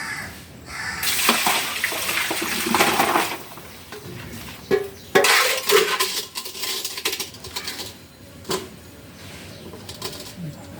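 Water pouring and splashing as turmeric seed rhizomes are drained from a Pseudomonas solution, a rushing flow with clattering knocks and shifting splashes, fairly close, with birds cooing faintly in the background.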